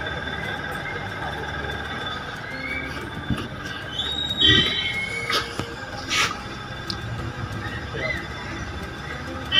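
A train at the railway station in Mullanpur Dakha, Punjab rumbles faintly with brief wheel squeals and metallic tones in the distance, while someone talks over it.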